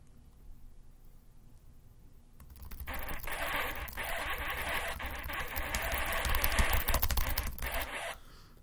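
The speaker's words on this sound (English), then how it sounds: "I know I am gonna have to spam on my keyboard." Rapid key-mashing on a computer keyboard during a game: a quiet start, then dense, fast clattering that swells louder and carries on for several seconds.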